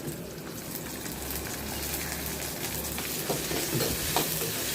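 Mudakathan greens sautéing in a pan give a dense, steady sizzle and crackle. A low hum runs under it and a few soft stirring scrapes come near the end, all close up.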